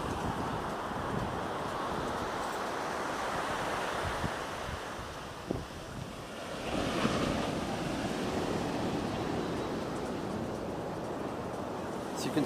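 Ocean waves break on Flamingo Beach in Costa Rica, a continuous rushing surf with a fuller crash in the middle, heard over wind buffeting the microphone.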